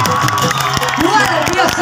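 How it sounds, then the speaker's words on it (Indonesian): A crowd cheers and claps loudly at an Ogoh-ogoh parade in Seputih Raman, their noise mixing with shouts and an amplified voice speaking over it. "Kita beri tepuk tangan yang meriah untuk kampung Rama Indra"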